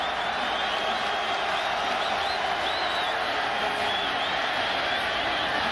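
Dense, steady roar of a football stadium crowd at a 2010 Marshall vs West Virginia game, loud and continuous with broad cheering and no pauses, no clear talk on top.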